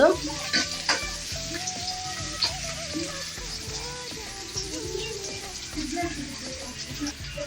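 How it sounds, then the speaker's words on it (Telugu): Beans and carrots frying in oil with onions in a pan while making masala Maggi, a steady soft sizzle with occasional stirring knocks and scrapes, fairly quiet, with a voice talking over it. "ఇప్పుడు బీన్స్ క్యారెట్ వేసుకుందాము ఇవి కొద్దిగా ఆయిల్లో ఫ్రై చేయాలి టూ మినిట్స్"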